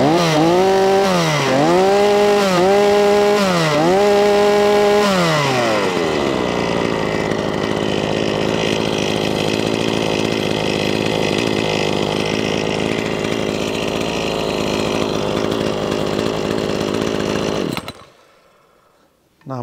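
A Ruris RM 540 chainsaw runs after a warm start; the close, loud engine is blipped through several revving cycles, then settles to a steady high idle before cutting off abruptly near the end.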